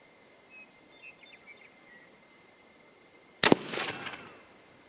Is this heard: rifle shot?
yes